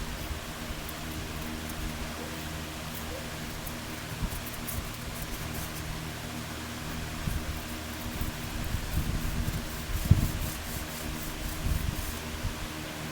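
Sanding on a 1926 DL&W rail during restoration gives a steady, soft abrasive rubbing hiss that continues evenly, with occasional light knocks.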